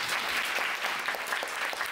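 An audience at a lecture in a bookstore applauds, a short, dense, even patter of many hands, steady and fairly close.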